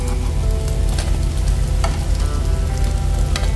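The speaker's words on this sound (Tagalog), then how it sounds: "Prito." Fish frying in hot oil, a loud, close, continuous sizzle with crackling pops and occasional stirring clatter.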